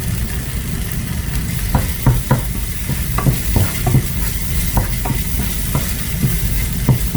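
Chicken rendang spice paste sizzles steadily in hot oil in a pan, with a spoon scraping and stirring it in irregular knocks and scrapes, up close and without talk.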